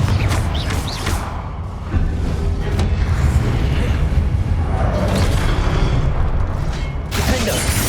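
Confringo explosive spell in Hogwarts Legacy, with loud, rumbling booms and bursts that swell and fade over a continuous roar of game action.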